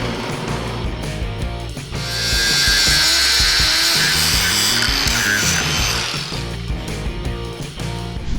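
A drill bores into welded steel plate, a loud steady grinding whine that swells and holds for several seconds with a rough metallic edge, then eases back toward a lower motor hum.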